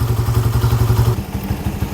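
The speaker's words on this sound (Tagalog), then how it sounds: "Kung medyo uminit na yung makina, pwede na natin itong patayin." Suzuki Raider R150 FI motorcycle engine idling after an oil change, a steady loud single-cylinder putter with rhythmic low thumps throughout, running alone without talk.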